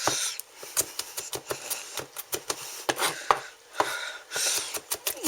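Rapid knife chopping on a cutting board as garlic is minced, a fast run of sharp, close taps with uneven rhythm and brief pauses, no talking.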